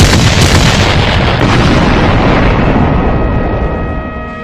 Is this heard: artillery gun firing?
yes